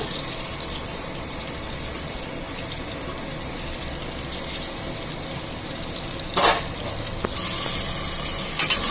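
Onion with ginger garlic paste sautéing for veg pulao, a steady close sizzle of frying with brief clinks of stirring near the end.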